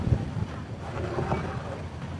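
Strong wind gusting outdoors at a beef meatball (bakso) stall, a steady broadband rush buffeting the microphone throughout with a low rumble, no clear talk.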